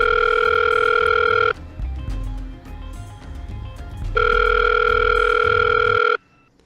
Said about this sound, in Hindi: पहले मैं इस लड़की को फोन लगाता हूँ।